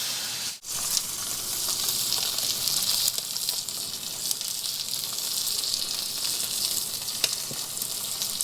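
A5 Wagyu beef sears in a hot pan, a dense continuous sizzle that holds steady for several seconds after a brief dip at the start, close and even, with no one speaking.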